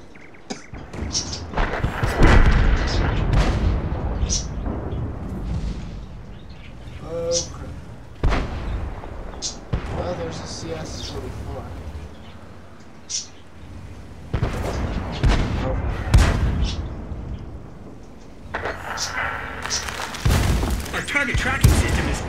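A T-34 tier 5 Russian medium tank's cannon fires in World of Tanks, with several heavy booming shots at uneven intervals over a rumbling engine and battle noise, and a voice talking throughout.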